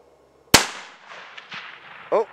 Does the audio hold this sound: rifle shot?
yes